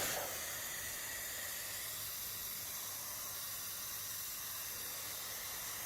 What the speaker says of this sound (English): back to the high pressure soap and onto the rear floor mats